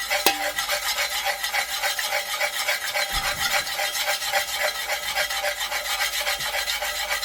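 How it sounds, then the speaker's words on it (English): Red dye being stirred into a small batch of melted wax, a steady scraping, rubbing swirl that runs continuously and close up with no voices. "Make sure we stir it in really well."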